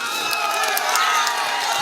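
A political rally crowd in Bihar claps and cheers in a dense, steady wash of applause with scattered shouts, no single voice standing out.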